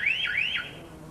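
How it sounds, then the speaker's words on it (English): A car alarm set off by its vibration sensor on an early-1990s car, two rising electronic whoops in quick succession, loud and close with no talk. "the alarm is instantly set off."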